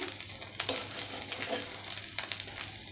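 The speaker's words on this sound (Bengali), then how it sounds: "এপিট ওপিট করে আমি ভালো করে ভেজে নিয়েছি" Bottle gourd leaves frying in oil in a pan, a steady close sizzle with soft crackles and occasional stirring scrapes, no talk.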